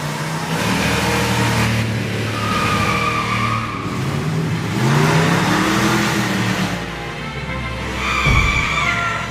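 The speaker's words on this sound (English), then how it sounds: "But to his horror, the truck lurched forward." A truck engine revs hard and surges as the vehicle lurches forward, with a loud, rising roar that swells and drops several times, followed by a sharp scraping skid near the end.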